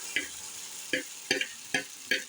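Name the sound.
batter poured into hot oiled pan, sizzling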